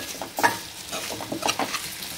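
Chopped taro root cooking into a curry in a pan is stirred, with a soft sizzle under repeated scraping spoon strokes that come in uneven bursts, close and moderately loud.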